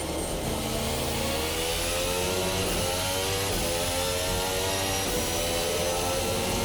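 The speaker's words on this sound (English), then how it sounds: "I can hear that a little bit better with the slightly tweaked engine sounds" An RSS Formula Hybrid 2022 open-wheel race car in Assetto Corsa screams at high revs, a loud, continuous engine whine whose pitch sweeps up and down through gear changes, with no talking.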